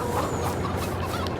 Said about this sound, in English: So 141 chickens. That's a hell of a lot of chickens.